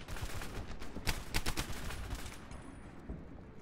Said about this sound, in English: I heard a gunshot northwest, but it sounded part of a gunfight